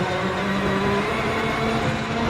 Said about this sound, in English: Engines, pops, gravel crunch and drivetrain noise are all really good.